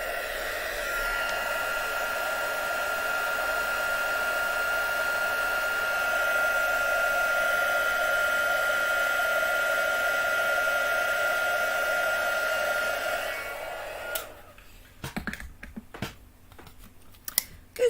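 A heat tool used for heat embossing on a card blows with a steady, close whirring hiss for about fourteen seconds, then cuts off, followed by a few sharp clicks and taps.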